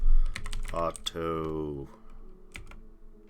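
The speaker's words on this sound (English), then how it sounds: "what if I just start typing it?" Computer keyboard typing while playing Dwarf Fortress, a few quick keystrokes clicking under and between close, steady talk from the person at the keyboard.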